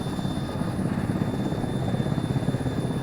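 Helicopter in the military simulation game ArmA 3, a steady rotor and engine drone holding at constant loudness throughout with no talk over it.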